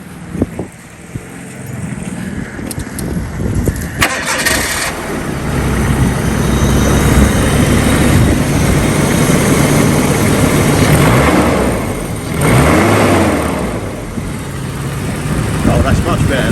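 An Isuzu Piazza engine cranks and starts, then idles with a steady low rumble, its revs swelling and easing a few times, with a person talking over it.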